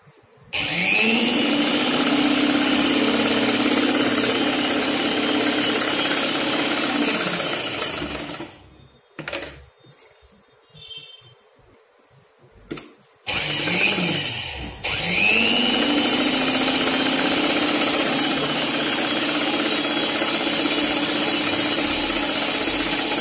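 A sewing machine double-stitching the seam of a chudidar pant runs in a loud, steady whir. It stops for a few seconds with a few clicks and handling sounds, then starts up again and keeps running to the end.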